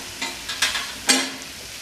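Ginger garlic paste sautéing with chicken masala and garam masala in a pan for a prawn curry, giving a soft sizzle broken by three or four quick stirring scrapes, close and alone with no talk.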